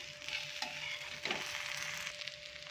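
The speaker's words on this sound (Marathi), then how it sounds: "त्यावर थोडंसं तेल सोडून घेऊया आणि छान याला भाजून घेऊया" Thalipeeth roasts in oil on a pan with a soft, faint sizzle, broken by a couple of brief spatula scrapes.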